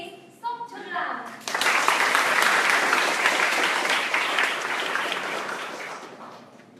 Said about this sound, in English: Please give a big applause to our third speaker, Miss Sok Chun Lam.